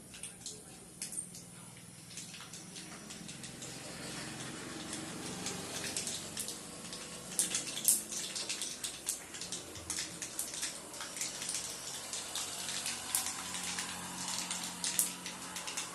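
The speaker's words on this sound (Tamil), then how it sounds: "பாருங்க, நல்லா படன்னு பொரிஞ்சிருச்சு அந்த கடுகு" Mustard seeds popping and spluttering in hot oil while prawn gravy is being made, a busy crackle of sharp little pops that grows denser and louder as the seconds pass.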